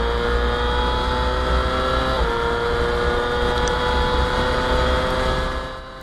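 An F2 racing sidecar engine screams loudly through the double-apex right-hander at Coppice corner, Donington Park, a sustained high-revving drone that holds steady before fading away at the end.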